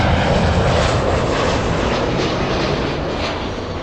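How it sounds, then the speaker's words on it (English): A WestJet airliner inbound from Vancouver on approach to LAX, its engines roaring loud and close in a steady, broad rush that holds for the whole stretch and eases only slightly at the end. "WestJet, the Spirit of Canada, flying in from Vancouver."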